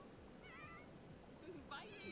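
Cats meow in the video game Sims 4, a faint, quiet mew followed by a few more brief cries against a low background hum.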